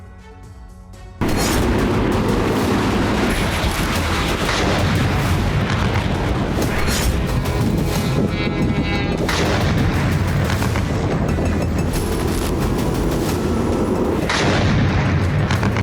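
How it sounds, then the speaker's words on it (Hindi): Heavy gunfire from Russian T-90 tanks in combat at Robotyne: a dense, continuous barrage of loud booms and bursts that starts abruptly after a quiet second and keeps rumbling for the whole stretch. "रोबोटिनो में रूसी सेना ने T-90 टैंकों से भारी गोलीबारी की।"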